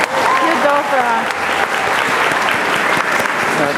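Audience applause at a dolphin show featuring Pacific White-Sided Dolphins, a sustained dense wash of clapping with crowd noise filling the whole stretch, while a voice talks over the start.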